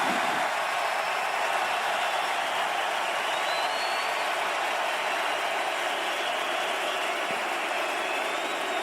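A hockey arena crowd roars and applauds during a Buffalo Sabres versus Montreal Canadiens playoff game, a dense, sustained wash of cheering and clapping that stays loud and unbroken throughout.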